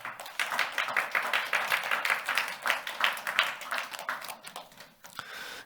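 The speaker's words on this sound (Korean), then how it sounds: "박수 치려면서 세게 좀 쳐." A church congregation clapping hands together, fast dense rhythmic claps filling a hall for several seconds before tapering off, with some voices mixed in.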